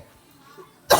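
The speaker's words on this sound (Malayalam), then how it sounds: "എന്താ ഈ ചുമ മാറാത്തെ?" A single sharp, loud cough bursts out close by right at the end, after near silence.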